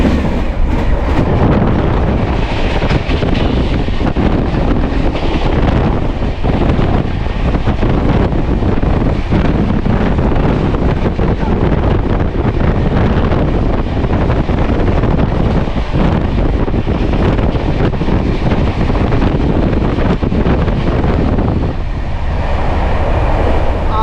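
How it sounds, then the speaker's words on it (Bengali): The 12821 Howrah–Puri Dhauli Express passenger train roars along at high speed, with loud continuous rumble, rushing wind and rhythmic clickety-clack from the tracks, heard from on board. "এই মুহূর্তে ধৌলি এক্সপ্রেসের গতিবেগ আমি আপনাদের দেখাচ্ছি 131"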